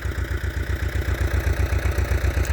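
An old 1Z diesel car engine idles in deep frost, around minus fourteen to minus twenty degrees, with a close, steady, fast low-pitched knocking pulse and a constant clattery hum.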